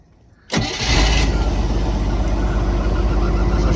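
A 4.3L Cobra OMC boat engine cranks and catches about half a second in, then settles into a loud, steady, throbbing idle that runs on alone.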